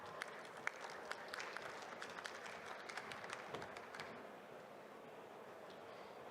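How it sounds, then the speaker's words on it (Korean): A crowd at a startup pitch event applauds with scattered claps, faint and distant, tapering off after a few seconds. "큰 박수 부탁드립니다"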